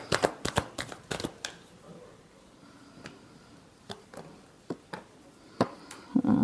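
Tarot cards are shuffled by hand in quick bursts of crisp riffling snaps, close and clear, with short pauses between and a final flurry at the end.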